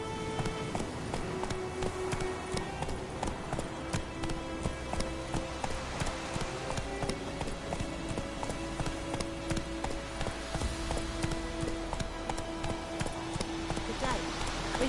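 The horse Roach galloping in the video game The Witcher, a steady rapid clip-clop of hooves running throughout, with game music and ambient sound underneath.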